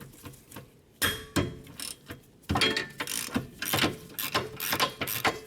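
A ratchet wrench loosens the 14mm rear brake caliper bolts on a Hyundai Santa Fe: close, sharp bursts of rapid ratcheting clicks in several separate runs, with brief pauses between them.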